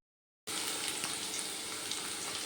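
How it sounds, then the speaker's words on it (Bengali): Chunks of cut potato fry in hot oil for a fig kofta curry, giving a steady, dense sizzle that starts abruptly after a short silence and holds close and even throughout. "দিয়ে এবার আলুগুলো ভালো করে ভেজে নেব।"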